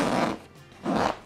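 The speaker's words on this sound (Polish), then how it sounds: "Ten suwak jest bardzo wygodny, bo za jednym pociągnięciem mamy zasunięcie z dwóch stron." A zipper on a Thermomix carrying bag is pulled shut in two quick close strokes, each a bright rasping burst with a short quiet gap between.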